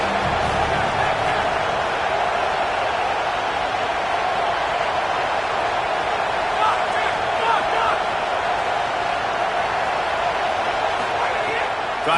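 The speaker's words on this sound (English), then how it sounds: "how nice is it to have the home crowd going absolutely bananas?" A home crowd at a college football game roars loudly and steadily, a dense wash of cheering that continues without letup, with an announcer talking over it.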